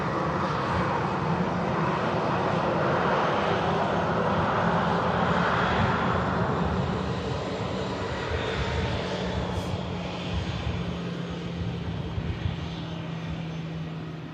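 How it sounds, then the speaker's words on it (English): An Air France Airbus A320 from Paris touches down at an airport, a loud continuous jet roar with a broad rushing quality that slowly fades and steadies over the whole stretch. "Another aircraft touching down now as well."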